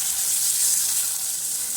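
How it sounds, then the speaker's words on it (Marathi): Bitter gourds sautéing in hot oil in a kadhai, a steady close hiss and sizzle with a watery texture, continuous and fairly loud with no talk. "कढईत तेल टाकून, तेल गरम झालं की सगळे कारले त्यात व्यवस्थित परतून घ्यायचे"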